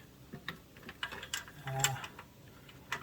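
Wrench working a nut loose on a John Deere Gator 865 during drive belt work, faint irregular metallic clicks and ratcheting taps scattered over quiet background, close by.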